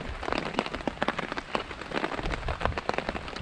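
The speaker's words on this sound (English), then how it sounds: "it's absolutely pissing, pouring down now" Heavy rain pours down onto a tarp shelter in the woods at night, a dense, steady patter of close drops drumming on the fabric with no voices.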